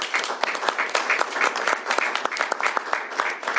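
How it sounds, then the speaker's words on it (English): A room full of people applauds the bill sponsors as the governor signs their bill into law, with dense, crisp hand claps in a lively, sustained burst. "Please give them a round of applause as I sign this bill into law."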